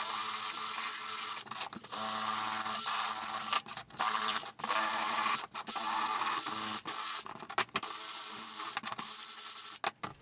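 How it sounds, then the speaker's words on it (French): Stiff brush scrubbing metal hardware pieces to age them, a steady close rasping that runs almost continuously with a few brief pauses. "la deuxième, on va se la faire à la brosse"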